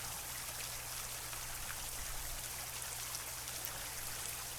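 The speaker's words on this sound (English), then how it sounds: "Let me follow this stream and see where it leads to." A flowing stream in the horror game Wardwell House runs as a constant soft, hissing trickle of water, steady and unbroken throughout with no voices.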